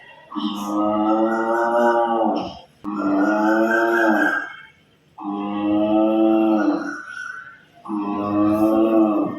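A man imitates a buffalo, giving four long, loud, deep lowing moos in steady succession with brief pauses between, convincingly animal-like.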